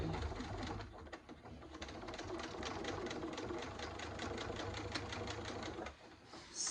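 A sewing machine stitches a back panel in a fast, even mechanical rattle that runs continuously for several seconds, then briefly slows and stops near the end.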